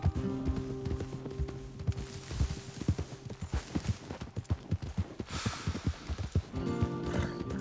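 Horses gallop across a Red Dead Redemption 2 game landscape, their rapid hoof beats drumming steadily over a busy music and effects bed, with a brief whinny mixed in.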